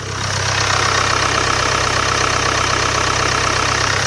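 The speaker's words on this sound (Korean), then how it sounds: "자 이어서 엔진음 바로 들어보실게요" A Land Rover sports-coupe-style SUV engine idles steadily with a low, even hum and a faint rhythmic chug, close and constant.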